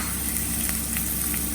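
Capsicum sautéing in a pan for Andhra-style paneer masala, a soft, steady sizzle and crackle of frying vegetables at a low, even level, with no voice over it.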